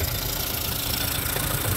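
A 1988 Mariner 8hp long-shaft two-stroke outboard motor idles steadily, its even, buzzing engine drone filling the short moment close up.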